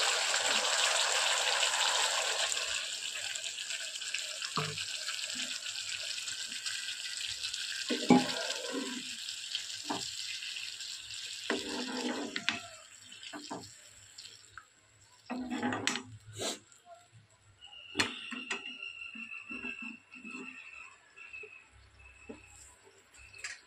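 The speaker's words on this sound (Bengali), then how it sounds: "এবার পরিমাণ মতো জল দিয়ে দেবো।" Water poured into a frying pan of dhokar jhal curry, a hissing rush that starts loud and fades over several seconds, followed by quieter bubbling, clinks and scattered kitchen knocks.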